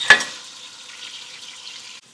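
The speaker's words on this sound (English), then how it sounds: "This has to sizzle a little bit" A sharp hit followed by steady, loud sizzling of lobster ragu sauce in a hot frying pan that cuts off abruptly.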